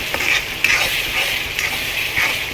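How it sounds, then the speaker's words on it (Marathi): Pav bhaji masala is stirred into a potato and pea mixture in a pan, producing a continuous close sizzle broken by regular spoon scrapes about every half second, with no speech. "ॲड केल्यानंतर त्याला मिक्स करायचं"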